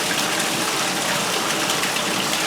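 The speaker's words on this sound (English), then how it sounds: "I don't want to let the water beat on the blanket either." Running water pouring steadily onto a wool blanket during hand cleaning, a dense, even splashing gush close by that holds constant throughout with no talk.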